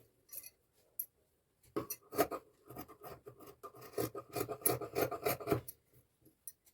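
Blouse fabric is cut close up, giving a run of quick, rasping snips and rubbing cloth sounds in irregular bursts, with short pauses between them.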